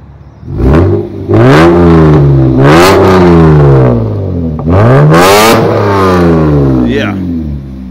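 A Lexus GS 300 with aftermarket headers revs hard several times. Each loud rise and fall in pitch comes close and repeated, and one rev is held a little longer before it settles back toward idle.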